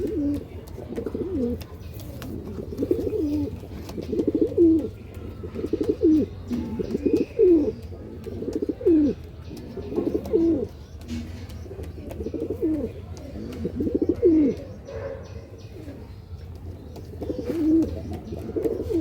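A pair of grey Western pigeons coo in repeated rolling phrases, close and clear, each coo swelling and falling at a steady pace with a low hum underneath.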